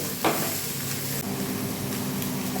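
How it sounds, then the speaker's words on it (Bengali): Chicken frying lightly on low heat for a stuffing, a soft steady sizzle with a few stirring clinks and scrapes, close up with no talk. "আঁচটা কমিয়ে নিয়ে হালকা করে ভেজে দেবো"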